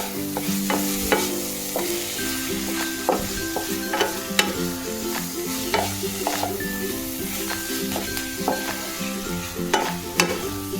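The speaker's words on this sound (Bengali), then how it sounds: "এবার এতে আর একটু সামান্য 1/2 চামচের মতো ঘি দেবো, দিয়ে এটাকে নেড়ে আর নামিয়ে নেব" Paneer in a pan gets stirred after a little ghee goes in, with a low sizzle under rhythmic spoon scrapes and knocks repeating about every second, fairly close.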